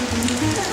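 Heavy rain pours at night on a Paris street near a bar, a dense, steady hiss of drops on hard surfaces, loud and close with a low hum beneath.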